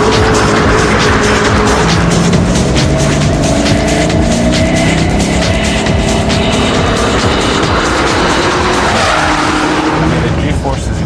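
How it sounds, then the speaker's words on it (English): A Ford GT40 super sports car drives hard, its loud engine roar continuous and close, with tires skidding and squealing throughout while a voice talks over it. "This is the GT40 Ford, which is my first super sports car I ever bought."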